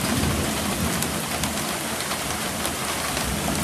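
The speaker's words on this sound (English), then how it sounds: "It's raining outside" Rain falling steadily outdoors, a dense, even hiss and patter with occasional low rumbles of thunder underneath, constant and fairly loud from start to finish.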